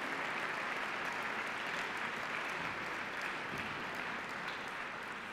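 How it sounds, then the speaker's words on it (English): An audience at a National Science Bowl awards ceremony applauds with a continuous, even wash of clapping that stays steady and fairly distant throughout. "Nice round of applause for our junior highs,"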